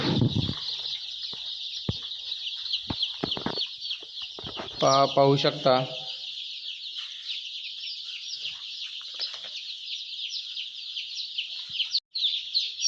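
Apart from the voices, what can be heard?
young country chickens clucking in a brooding shed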